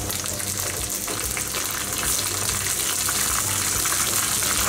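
Oil sizzles and crackles steadily in a hot pan as a tempering with curry leaves fries, a continuous close frying hiss with no voices.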